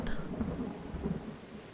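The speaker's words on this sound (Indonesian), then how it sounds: "Hujan turun sangat lebat, angin bertiup cepat, dan langit dipenuhi kilat." A thunderstorm rumbles low and continuous with heavy rain and wind, a deep, rolling roar that stays fairly faint and steady without any voices.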